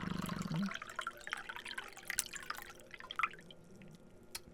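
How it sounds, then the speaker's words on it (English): Water poured into a glass at home, a brief gurgling pour at the start followed by scattered drips and small splashes, fairly quiet with no talking. "Maybe pour a little glass of water while we're at it,"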